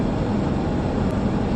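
A train passing at a crossing on Highway 28 between Gibbons and Plamondon, Alberta: a steady, loud, broadband rumble and rolling roar throughout, heard from close by.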